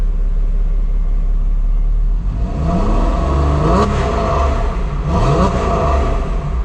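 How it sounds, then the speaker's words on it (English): A 2004 Porsche 911 engine idles with a deep rumble, then revs up twice to about 4,000 rpm, the dual exhaust note climbing and falling back, loud and close with no voices. "we'll just rev it up just a little bit so you can hear the sound of that dual exhaust"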